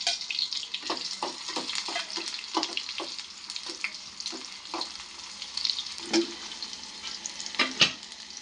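Chopped onion sizzles and crackles in hot oil in a home kitchen pan, with scattered sharp pops and stirring clinks over a soft, steady frying hiss.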